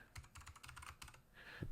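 A short burst of quick, light keystrokes on a computer keyboard while entering a password, close and faint, ending in a couple of separate clicks.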